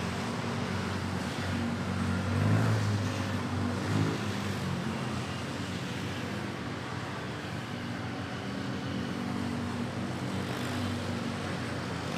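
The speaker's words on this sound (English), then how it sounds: "That was an Air Asia off to Macau." AirAsia airliner departing Manila Airport bound for Macau, a steady broadband engine roar holding for the whole stretch at moderate distance, with a slight swell early on.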